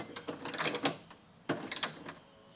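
A ratchet tightens the door handle bolts on a 1992–96 Toyota Camry, giving quick bursts of close clicking in two short runs with a brief pause between them.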